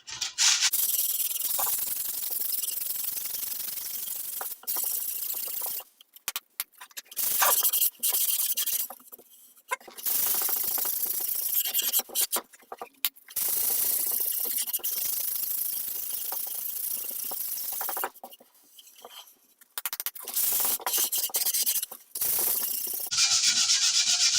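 Close, steady sanding on a wooden lazy Susan, likely with 60-grit paper, a harsh rasping rub in long stretches broken by short pauses, with no voices.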